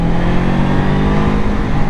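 A QJ SRV 600 motorcycle engine downshifts, a loud, steady mid-low drone with a shifting pitch that runs through the whole short stretch without any voices.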